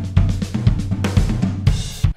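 Complex, busy drum fill from Logic Pro's Drummer played on the Damage Drum Kit: dense, rapid hits with booming low drums and crashing cymbal bursts, loud and continuous, with no talking.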